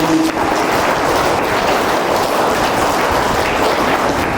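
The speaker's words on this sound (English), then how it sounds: "Clap for them both." A school English fest audience claps for two winning quiz teams, a dense, steady wash of applause from a crowd that holds at an even level throughout.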